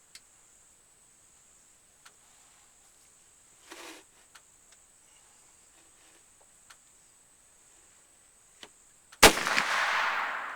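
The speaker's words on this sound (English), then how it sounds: "now we're actually going to shoot the gun and see if we can get our can down there at 50 yards." A Traditions Crockett .32 squirrel rifle, a muzzleloader, fires one sharp, loud shot outdoors at a can 50 yards away after a quiet stretch of faint insect chirps and small clicks, and the report rings out and decays.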